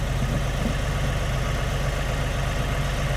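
A tractor engine idles steadily in a low, throbbing rumble, running at a constant level throughout with no voices.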